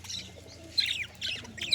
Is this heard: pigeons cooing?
yes